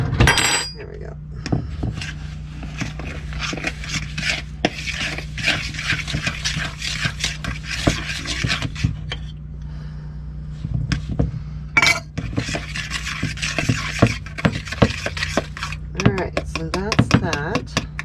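A spoon clatters and scrapes around a bowl, stirring gluten-free vegan banana bread ingredients, with busy irregular knocks and rattles throughout and a brief sharp clink midway.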